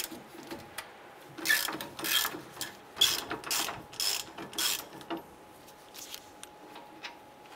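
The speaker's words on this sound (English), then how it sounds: "Using a 21 millimeter socket, go ahead, loosen and remove this bolt and the one up above." Ratchet with a 21 mm socket loosening a caliper bracket bolt on a 2002-2008 Dodge Ram 1500, a steady run of close, rhythmic clicking pulls that fades to lighter ticks toward the end.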